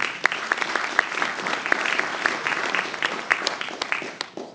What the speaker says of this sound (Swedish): Han får en varm applåd!